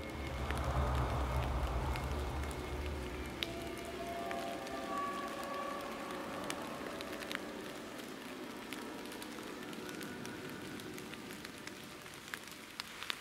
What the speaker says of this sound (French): je vais pas tarder parce qu'il pleut vraiment